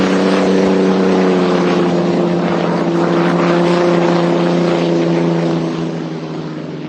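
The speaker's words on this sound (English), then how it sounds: "But let's listen to vintage hydroplanes right now." Vintage hydroplane racing boats roar past on the water at the 2024 Guntersville Hydrofest, a loud, continuous engine howl with strong droning tones that holds steady for several seconds before easing slightly as they pass.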